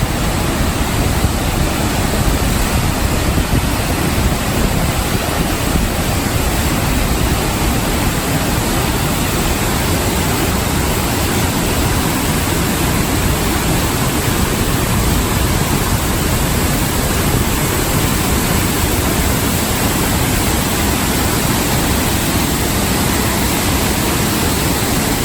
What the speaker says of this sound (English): use a GoPro and walk behind the waterfall